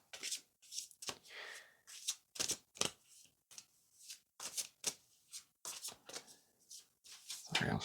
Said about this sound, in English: I'll shuffle on camera